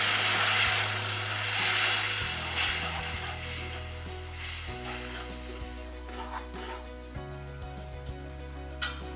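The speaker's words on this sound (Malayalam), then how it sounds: "ഇതിലേക്ക് നമ്മൾ കുറച്ച് ചൂടുവെള്ളം ഒഴിക്കുവാണ്." Hot water is poured into a frying paste of turmeric with roasted, ground mustard and fenugreek for hog plum pickle. A loud burst of sizzling gradually settles into a quieter bubbling hiss under background music.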